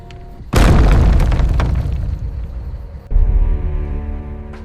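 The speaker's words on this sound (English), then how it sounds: "The massive gate slammed shut behind me." A massive monastery gate slams shut with a heavy booming crash, then a second loud impact follows and rings out with an echoing decay through a dark courtyard.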